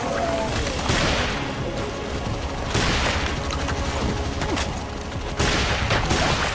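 Rapid automatic gunfire in a first-person shooter, dense sustained bursts with sharper blasts recurring about every two seconds over a busy, loud game soundscape.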